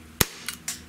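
A Glock 17 .177 blowback airgun pistol fires a single sharp, loud crack, followed by two fainter metallic clicks of the slide cycling, all close by with no talking.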